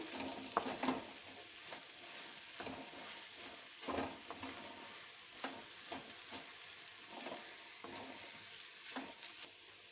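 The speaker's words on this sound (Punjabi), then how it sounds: "ਹੁਣ ਅਸੀਂ ਇਹਨਾਂ ਵਿੱਚ ਆਲੂ ਪਾ ਦਾਂਗੇ ਚੰਗੀ ਤਰ੍ਹਾਂ ਮਿਕਸ ਕਰ ਲਾਂਗੇ ਆਲੂਆਂ ਨੂੰ" Potatoes being stirred into spices already roasted in a pan for a stuffed capsicum dish, with repeated scraping strokes and a soft frying sizzle running steadily throughout, close and moderately quiet, no voices.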